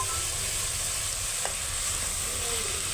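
Tomato pieces are stirred into an eggplant and potato curry in a frying pan, under a steady, close hiss of sizzling with a faint scrape of stirring.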